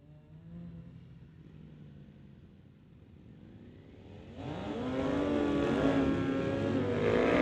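Drag racing motorcycles at a street legal night, a 2006 Suzuki and a Ducati, launch from quiet idle into a loud, rising engine roar that rises and holds strong to the end.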